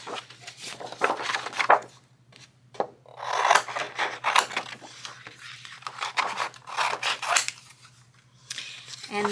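Scissors snip through card while shapes are cut out for a handmade Halloween card. The close, crisp cutting strokes come in irregular bursts with short pauses between them.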